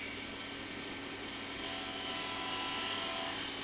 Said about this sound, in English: Take gentle cuts with a spindle gouge so as not to fracture the dowels.